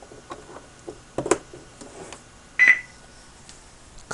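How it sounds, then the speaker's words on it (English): An electric unicycle battery charger gives a single short electronic beep amid quiet clicks and handling noises during a battery repair on an Inmotion V3C 74V lithium-ion pack. "I got a beep, and the charger went red"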